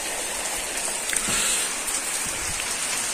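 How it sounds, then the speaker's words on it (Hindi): Steady rainfall pattering close by, a dense continuous hiss of drops on surfaces with no voices. "देखो बारिश कितनी बारिश लगी हुई है।"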